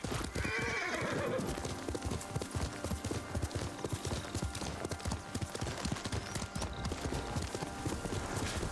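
Horse hooves clip-clop in a steady rapid gallop in the video game Ghost of Tsushima, with a whinny at the start, close and fairly quiet under ambient game sound.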